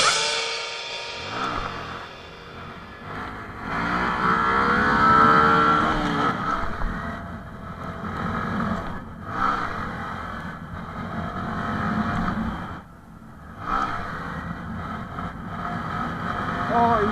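A Honda MSX SF minibike engine revs hard and repeatedly during wheelies, its rising and falling whine loud and close, with someone talking excitedly over it.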